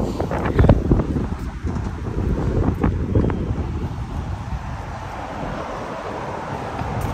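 Strong wind at an outdoor skate plaza in Brooklyn buffets and roars across the microphone in gusts, loudest early on, then settles into a steady rushing hiss.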